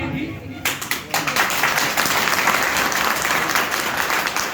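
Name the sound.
audience applause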